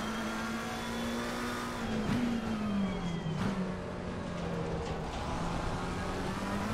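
Race car engine in Assetto Corsa, driven with a Fanatec DD Pro wheel, holding a steady buzzing drone, briefly dipping and rising again as the throttle is lifted and punched back down, continuous and fairly quiet.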